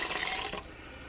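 Boiling water mixed with two chicken stock cubes is poured from a jug into a pan, a brief close splashing pour that tapers off within about a second.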